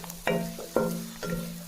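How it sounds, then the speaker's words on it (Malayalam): Onion masala sizzling in a pan while being stirred, for a soybean curry; three stirring strokes scrape through a steady close frying hiss, with no talk. "നല്ല പോലെ ഇളക്കുക."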